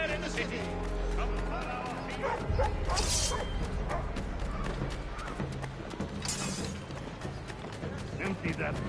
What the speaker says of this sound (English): God-forsaken dogs!